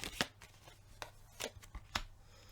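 Tarot cards being shuffled and cut by hand, a quiet series of crisp riffling and slapping bursts recurring about every half second over a faint low background hum.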